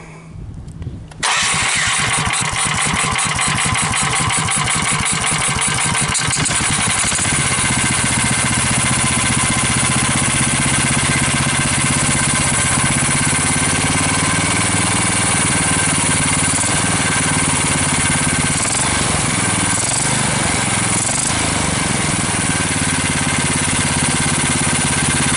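A Honda GX390 420cc engine fitted to an ATV with a swapped carburetor and a four-wheeler thumb throttle cranks briefly, catches and settles into a loud, close, steady running note, with revs rising and falling midway.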